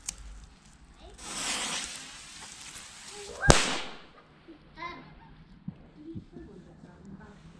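A small firecracker goes off at a bonfire night fireworks display, one sharp, loud bang standing out after a rising hiss, with scattered crackles and faint voices around it outdoors.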